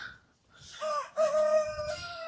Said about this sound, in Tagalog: ngayon nagbo-vlog na tayo, ay grabe ba yung tilaok nila, sabay-sabay pa